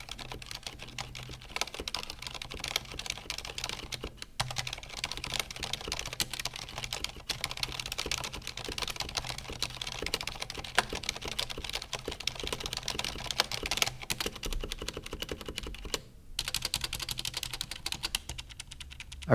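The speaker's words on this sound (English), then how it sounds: "This is the Strafe with silence." Steady, fairly quiet typing on a Corsair Strafe RGB Mk2 keyboard fitted with MX Silent switches, a continuous dense patter of muted keystrokes with a few brief pauses, heard alone.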